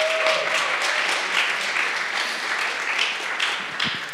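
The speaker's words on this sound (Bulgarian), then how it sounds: "Мега аплодисменти за OMI-TV" A studio audience at a Bulgarian startup pitch competition applauds steadily, a dense, sustained wash of clapping that stays loud throughout with no voices over it.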